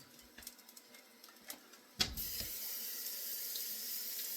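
A few faint clicks and taps, then a tap opens abruptly and water pours steadily into a rice cooker pot, a continuous hissing splash close by.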